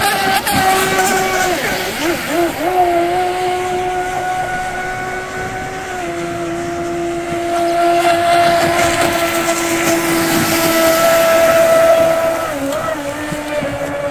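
Super Sonic Wake 48 RC speedboat running at full throttle on 100C 5000 battery packs, a loud sustained high-pitched electric whine that rises and falls as the boat passes near the shore.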